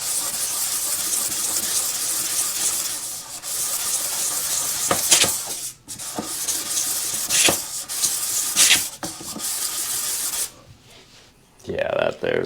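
Sanding wear off the rotor of a Perkins diesel DPA injection pump produces a rough, continuous rasping scrape that pauses several times, with sharp gaps and bursts toward the end.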